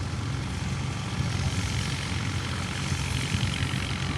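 A tractor engine drones steadily during the village wheat harvest as the tractor makes a turn, with a constant, fairly loud rumble throughout.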